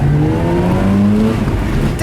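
A 2004 Mazda RX-8 engine hums steadily and loudly from close by, a smooth rotary drone with a faint rising pitch and no talking over it.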